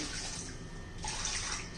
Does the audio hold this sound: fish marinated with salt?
no